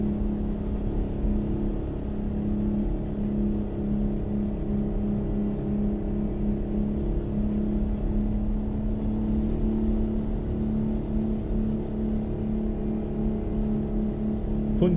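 Town traffic in American Truck Simulator heard from the cab: a steady, loud engine drone with a continuous road hum, while nearby vehicles blend into the rumble without distinct passes.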